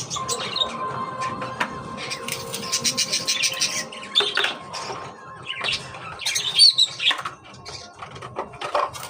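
Pet lovebirds and cockatiels chirp and squawk in quick, scattered bursts close by, overlapping in an irregular chatter with no talk.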